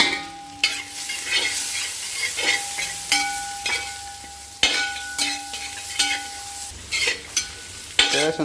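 Ingredients for a Kerala-style chicken curry are sautéed in a pan, with a soft continuous sizzle under repeated close scraping and clanking strokes of a spatula stirring through them.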